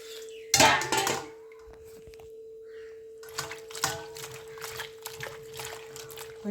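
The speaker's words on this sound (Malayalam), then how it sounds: "ഇനി നമുക്ക് ഈ മലക്കറി ഒന്ന് കഴുകിയെടുക്കാം." Vegetables for a Kerala avial being washed in water, with clattering of a pot, splashes and trickling in bursts, a loud clash early, then quieter handling and dribbles under a steady background hum.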